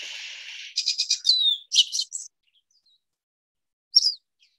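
Recorded bird song: a buzzy opening note followed by a rapid series of sharp jit-jit notes and a few chirps, then a pause and one more short chirp, clear and isolated against silence.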